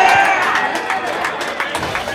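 Rugby league crowd on a grassy hill cheering and shouting after a try, a loud sustained roar with scattered claps lasting about two seconds.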